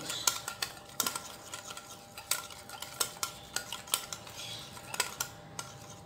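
Tres leches cake batter being beaten in a bowl, with a utensil striking the sides in quiet, fairly regular clinks about twice a second, close and faint, with no speech.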